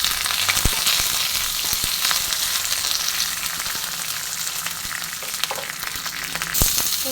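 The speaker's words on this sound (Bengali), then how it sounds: "সেই 5 ফোড়ন ছড়িয়েই দিলাম 5 ফোড়ন, আর সঙ্গে দেবো বেশ খানিকটা কারি পাতা। ভালো করে ফোড়নটা ভেজে নেবো।" Dried red chillies, five-spice seeds and curry leaves frying in hot oil for tamarind-stem dish, a steady loud sizzle with occasional sharp pops and crackles, no voices.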